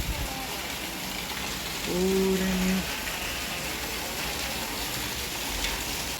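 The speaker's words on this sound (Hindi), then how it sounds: "आज भी बहुत ज़्यादा बारिश हो रही है" Heavy rain falls steadily in Haridwar, a dense constant hiss close by, with a brief tonal sound midway and a single spoken word.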